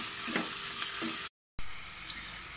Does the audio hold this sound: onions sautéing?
yes